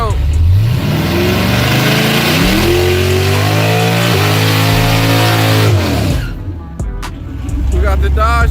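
A Dodge Demon fitted with two stages of nitrous revs loud and close at a drag event against a Tesla Plaid, its engine note repeatedly climbing and falling before cutting off briefly and roaring again.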